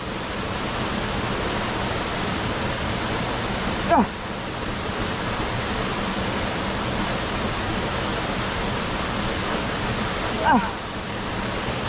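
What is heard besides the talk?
river water flowing while bathing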